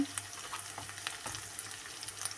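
Ground turmeric, chili and coriander powders sizzle in a pan while being stirred for a taro-root bhuna. The frying crackle is faint and steady, with small spatula clicks and no talk.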